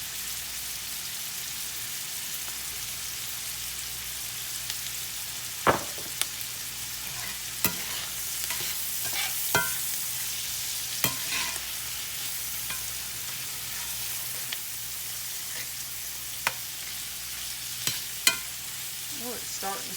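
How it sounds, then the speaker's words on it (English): Minced garlic sizzles steadily in a pan alongside sausage in a Southern home kitchen, a continuous close crackle with scattered sharper pops and stirring clicks, no talk over it. "I'm adding my minced garlic."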